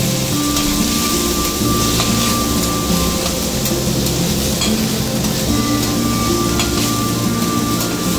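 Squid stir frying with garlic in a pan gives a loud, continuous sizzle and crackle, with hissing spatter throughout and no voices.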